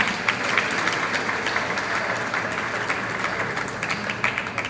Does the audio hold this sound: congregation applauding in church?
yes